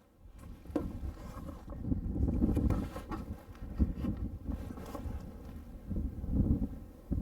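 Headwind of about 10 to 12 miles an hour buffets the microphone at a rifle range, a low, uneven rumble that swells and fades in gusts with no other sound over it.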